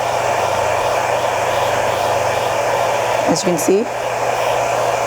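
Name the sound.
heat blower heating interior film on a countertop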